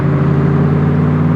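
A 2025 Factory Five Racing Cobra Mark IV with a 347FI engine drones at a steady, loud, close rumble on a test drive, with no audible rise or fall in pitch.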